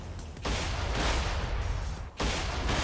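A cannon fires in a video game: two heavy, booming blasts, the first near half a second in and the second just after two seconds, each a loud broadband burst, close and alone.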